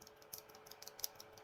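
Tactile mechanical keyboard switches give soft, muffled clicks in a quick irregular run of light taps, faint and close, with no voices over them.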